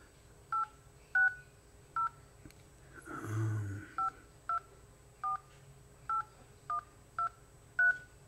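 Telephone keypad tones from the Nettalk calling app on an iPod Touch, about a dozen clear short beeps at an uneven quick pace with a brief rustling noise partway through.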